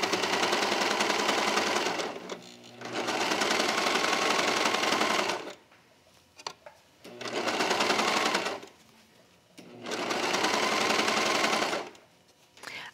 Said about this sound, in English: you're going to want to make sure that you do catch all three layers the whole time that you're sewing